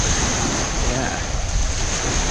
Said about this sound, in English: Some good waves today.